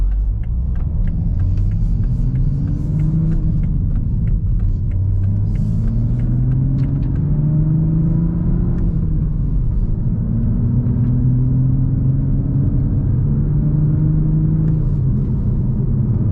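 A manual Toyota Supra MK5 drives in sport mode with its exhaust valve, giving a low, fairly subdued engine drone that climbs and drops repeatedly through the gear changes, steady and close, with no talking.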